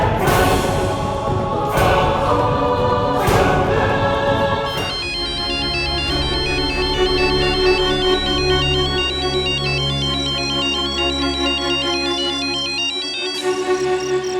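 A mobile phone ringtone plays alone for about fourteen seconds as a repeating electronic melody, loud and close, with a brief change in the pattern near the start.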